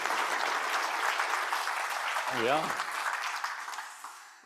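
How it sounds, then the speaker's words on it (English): Audience applause for a judge at a live business final, a steady wash of clapping throughout, with someone speaking briefly over it partway through. "Big round of applause"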